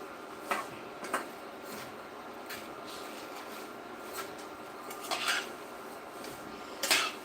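Sev frying in ghee in a pan is stirred with a metal spoon, a faint low sizzle under occasional clinks and scrapes against the pan, close and quiet.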